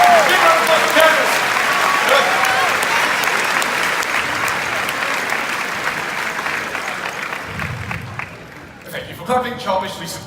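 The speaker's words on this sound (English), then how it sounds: "Big round of applause for Candice." Audience applause for a woman named Candice at a family reunion event, a big crowd clapping loudly and steadily, then slowly tapering while a voice speaks near the end.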